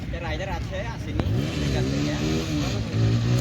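A scooter pulling a long wheelie with its engine revving, rising and falling pitch sweeps under someone talking nearby, loud and continuous with a brief sharp click midway.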